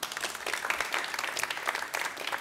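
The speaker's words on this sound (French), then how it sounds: "Vous pouvez vous applaudir." A small audience of young people from Magny-le-Régnier applauds at a magician's kids' show, a steady patter of clapping that holds evenly for a couple of seconds with no talk over it.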